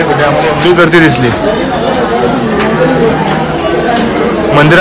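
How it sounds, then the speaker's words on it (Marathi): Dense crowd chatter inside a packed Jivdani temple, loud overlapping voices and babble filling the space continuously, with one nearer voice talking above the hubbub. "मंदिरात जाम गर्दी आहे."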